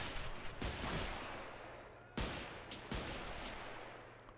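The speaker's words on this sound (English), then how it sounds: "There's more long-range bolt-action rifle fighting right now." Bolt-action rifle fire crackles in a long-range WW1 battle in the Men of War Assault Squad 2 video game. A few sharp, fairly distant shots ring out over a continuous noisy battle wash, with no talk.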